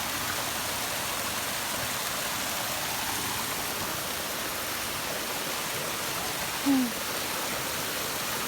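A strong stream current rushes steadily along a mountain trail in Hong Kong, with a constant broad hiss of flowing water and one brief faint tonal blip near the end.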